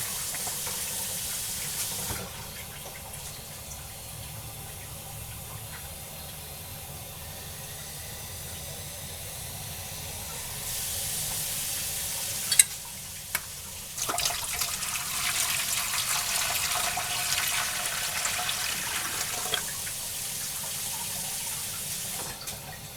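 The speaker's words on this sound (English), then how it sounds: "So we are going to add 3 quarts of water to our canner." Water pours into a Presto pressure canner, three quarts added in a soft steady hiss that swells louder midway and continues in bursts, with no talk.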